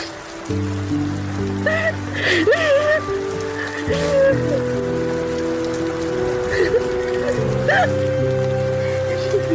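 Steady rain patters on a surface throughout, while sustained musical chords play and a voice sings or speaks over it.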